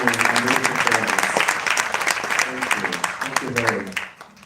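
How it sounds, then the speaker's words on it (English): Audience applause fills a hall at an International Women's Day celebration, steady, dense clapping from a crowd that carries on for several seconds before tapering off at the end. "would you clap again, once again, for our wonderful women and wonderful parents?"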